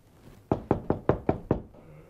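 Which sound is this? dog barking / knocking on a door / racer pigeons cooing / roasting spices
knocking on a door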